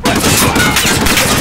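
Shooting-game gunfire, a loud, continuous barrage of overlapping shots filling a short moment with no pause.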